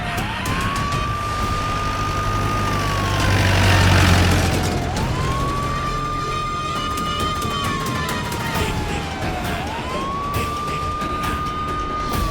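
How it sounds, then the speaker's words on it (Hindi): A wailing police siren rises and falls in long, slow sweeps, loud and steady over a low rumble of traffic, repeating about three times. "ये तो पुलिस की सायरन की आवाज।"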